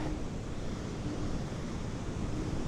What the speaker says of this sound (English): the waves are really coming up just so much